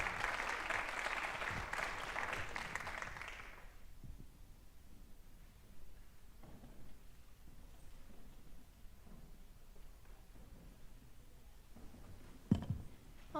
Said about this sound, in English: And now a round of applause for all of our honorees this evening.